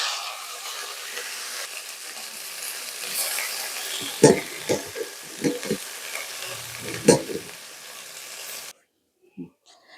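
Pea shoot greens hit a pan of onion, garlic and green chilies and fry with a constant sizzle. Scraping utensil knocks and stirring thumps run over it before the sound cuts off near the end.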